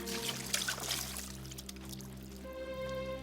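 Water is poured out in an animated cartoon: a splashy, trickling pour sits over a sustained musical background for a few seconds.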